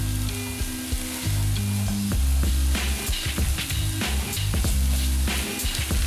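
Beef pieces sear in a hot pan for beef stroganoff, a loud, steady sizzle and crackle with repeated stirring scrapes as the meat is kept moving, no voices over it.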